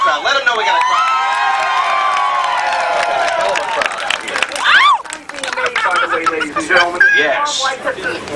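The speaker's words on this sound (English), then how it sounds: "Let them know we got a crowd." Live studio audience at a KFI AM 640 radio broadcast from Gladstones 4 Fish, cheering and shouting loudly with whoops and a dense crowd roar, voices rising and falling throughout.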